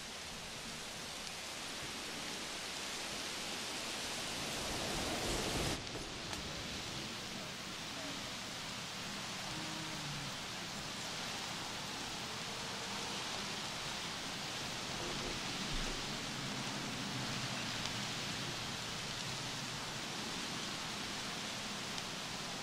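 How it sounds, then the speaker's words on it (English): Light rain falls in the video game Return to Jurassic Park, a soft steady hiss that runs unbroken throughout, with a brief thump about a quarter of the way in. "it's just light rain."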